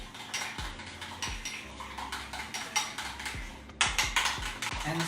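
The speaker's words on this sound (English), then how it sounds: "Now I'm gonna give this a good mix." Spicy chicken wings being mixed in a bowl, giving a quick series of close, light clinks and scrapes of a utensil against the bowl, repeated about every half second, with no talk.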